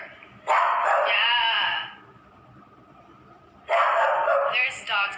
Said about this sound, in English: There's dogs being walked across the street.